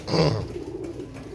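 A male Imam Deen pigeon gives one close, soft, throaty coo at the start, followed by faint background noise.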